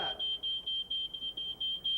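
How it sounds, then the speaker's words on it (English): Smoke detector alarm sounding a steady run of loud, high-pitched electronic beeps in a regular rhythm, about eight chirps in two seconds, with no voices over it. "It's a smoke detector, right? Does everybody know what it sounds like?"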